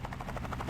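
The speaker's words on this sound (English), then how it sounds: "Of course they left the helicopter too loud." Helicopter rotor noise from the video game Tactical Breach Wizards: a loud, steady, rapid chopping thrum filling the whole moment, with no voices.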